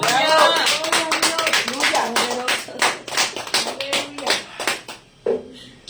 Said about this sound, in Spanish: Denle una ofrenda de palmas a nuestro Dios.